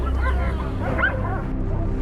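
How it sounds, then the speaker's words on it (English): Hunting dogs bark and yelp excitedly in rugged mountain terrain while chasing a wild boar at night, with short overlapping barks and whimpers over a steady rumble. "The hunting dogs surround and corner the wild boar, but don't assume this is the end."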